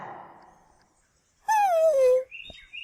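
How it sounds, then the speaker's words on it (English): A dog whimpers in a barn with one rising-and-falling whine lasting under a second, loud and close, followed by a short higher squeak. Quiet low rumble before it. "the canine whimpered and dashed throughout the barn"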